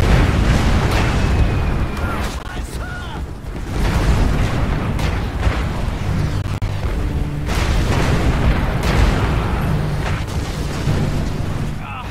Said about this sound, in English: Incoming artillery fire!